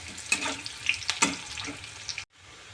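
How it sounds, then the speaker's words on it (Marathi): Onion sautéing in a pan until golden, a close hiss of frying broken by a few sharp stirring clatters, with no voices. "कांदा आपला छान असा गोल्डन होईपर्यंत आपल्याला छान परतून घ्यायचा आहे।"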